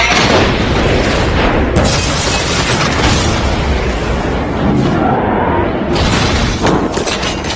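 A loud, sustained roaring blast of a car exploding in the film Transporter (2002), with crackling debris and rumble filling the air before a brief dip and another surge.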